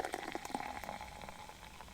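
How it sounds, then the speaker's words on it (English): A drink, with a yellowy colour, is poured and fizzes in the glass. A steady bubbling and liquid sound fills the short stretch, close by, with no voices over it. "Let's pour it and give it a swig because I'm getting a bit thirsty now."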